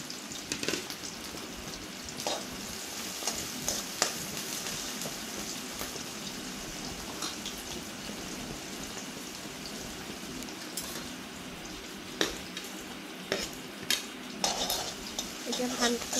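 Onions and ginger-garlic paste frying in a pan for a goat meat curry, stirred with a utensil that clinks and scrapes now and then over a continuous soft sizzle, with occasional speech in the background.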